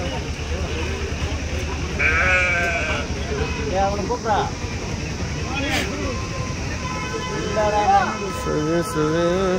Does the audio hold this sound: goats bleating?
yes